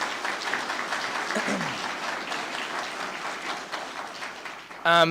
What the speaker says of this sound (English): we'll do a quick round of applause to appreciate them